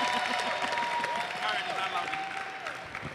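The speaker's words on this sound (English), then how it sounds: "please give him a loud round of applause" Applause from a conference audience, a steady wash of clapping that runs the whole time at moderate level, with a voice and a tonal sound gliding over it.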